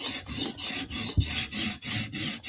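Repeated rasping strokes of a Protech Mordax knife blade drawn across the stone of a TSProf Kadet sharpener, about nine steady back-and-forth passes in close, even rhythm with a brief knock partway through.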